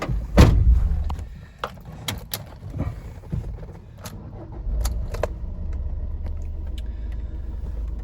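The door of a white 2013 Fiat Doblo 1.3L diesel manual van slams shut with a loud, close thud, followed by clicks and small knocks and then a low steady rumble inside the vehicle.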